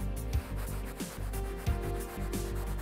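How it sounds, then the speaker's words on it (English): Soft, steady rubbing of a cloth buffing a convertible car top, close up, with short repeated strokes and no voices. "I'm gonna go ahead and flip to a clean side to buff off any remaining residue"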